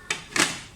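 Lid set onto a cooking pot of bottle gourd and chicken in a home kitchen, two quick close clinks of metal on metal, the second louder, then fading ringing.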